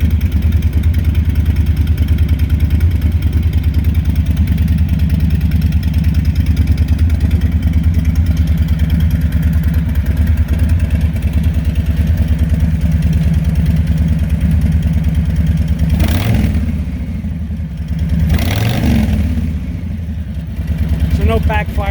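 A 2021 Harley-Davidson Street Bob fitted with a Vance & Hines Eliminator 300 exhaust without baffles idles with a steady, low, pulsing rumble, close and loud, with a couple of brief blips near the end.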